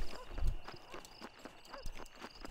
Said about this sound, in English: I don't want these horses.